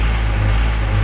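A tractor engine idles loudly close by as it surges up after the air conditioner load is switched off, a steady low drone with slight pulsing over about a second.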